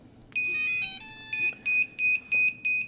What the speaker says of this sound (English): You can hear the Hobbyking buzzer that is on there.